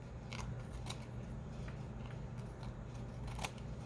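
Scissors snip a paper craft piece for a butterfly and bug project, making a run of small crisp cuts at an uneven pace, faint and close over a steady low hum.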